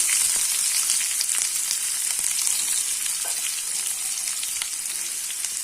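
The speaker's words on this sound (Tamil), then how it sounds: "நான் பெரிய வெங்காயம் ஒன்று கட் பண்ணி வச்சுருக்கேன், அதை போட்டுடலாம்" Chopped large onion and popped mustard seeds fry in hot oil for a Tamil tomato moong dal kootu, a loud steady close sizzle with crackling pops throughout and no talking.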